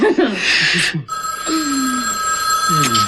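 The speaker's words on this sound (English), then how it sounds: "I hate ringing telephones." A telephone bell rings loudly in two bursts separated by a brief pause, with voices speaking over and between the rings.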